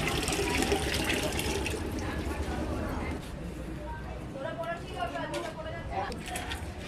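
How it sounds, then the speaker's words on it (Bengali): Water poured into a cooking pot at an outdoor family picnic, a continuous splashing gush that fills the first few seconds, then a softer trickle and gurgle with faint voices in the background. "প্রথমে আমি হাঁড়িতে জল দিয়ে নিচ্ছি"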